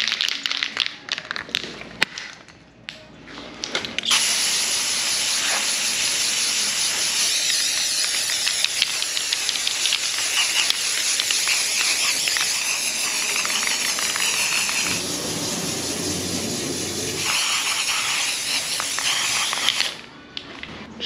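Spray paint can hissing sealant onto ground-treated half-inch plywood for a custom truck camper, a long steady close-up hiss broken by short pauses and clicks of the nozzle.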